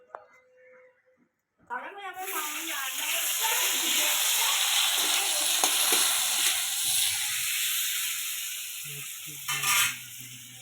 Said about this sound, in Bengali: শুকনো লঙ্কা আর চন্দনি ফোড়ন দিয়ে দিলাম